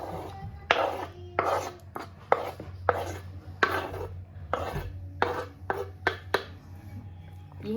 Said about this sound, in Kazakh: Енді осының үстіне пиязымды тура қаламын